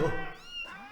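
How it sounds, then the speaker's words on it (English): A cat gives a short, sharp, wavering yowl after its tail is stepped on, close and loud, overlapping a voice. "He stepped on a cat's tail."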